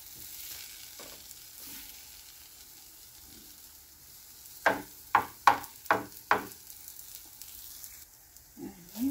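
Banana oatmeal snacks fry in a pan with a faint, steady sizzle, broken midway by a quick run of five sharp knocks or scrapes against the pan.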